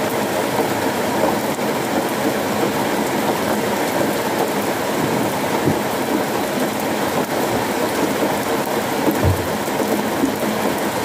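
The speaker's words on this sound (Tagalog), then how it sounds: "Talaga ulan." Steady, heavy rain pours down in a dense, even hiss, with a couple of dull low thumps partway through.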